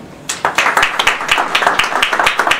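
A French literary-event audience claps and applauds to welcome a speaker, a dense burst of rapid, close clapping that starts abruptly and carries on at a steady level.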